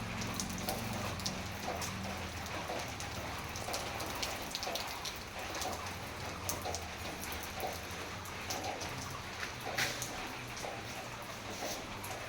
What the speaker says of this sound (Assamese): কিমান বৰষুণ চাই, বহুত বৰষুণ মানে এইকেইদিন।